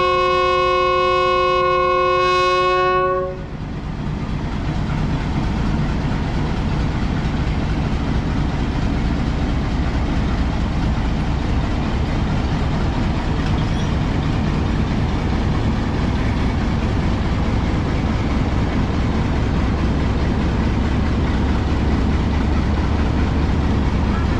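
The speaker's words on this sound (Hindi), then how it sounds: "महर एक्सप्रेस रावलपिंडी से निकल के मुल्तान की तरफ बढ़ चुकी है।" A Pakistan Railways Mehr Express passenger train departing Rawalpindi for Multan sounds a loud horn blast for about three seconds, then a steady, continuous rumble of the rolling train carries on near and loud to the end.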